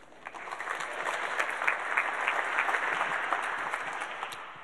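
Steady, dense applause from an audience at a climate change talk, filling the whole stretch at an even level with scattered louder claps and no speech.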